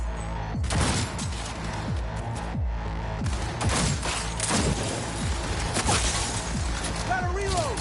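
Dense video game gunfire, with rapid bursts and repeated shots packed together and loud throughout, mixed with crashes and in-game voices.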